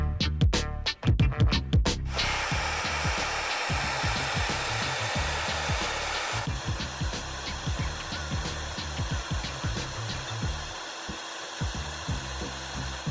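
Hot air plastic welding on motorcycle plastic: a constant airy blower hiss from the heat gun runs throughout, with clicking and knocking handling noises and a short burst of rapid rattling at the start.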